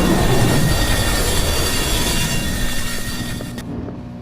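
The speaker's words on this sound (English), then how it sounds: "And holy crap, there's a train." Train passing in the game Estranged 2, a loud rumbling rush of rolling wagons and rail noise that gradually fades, with a brief metallic clank near the end and no voices.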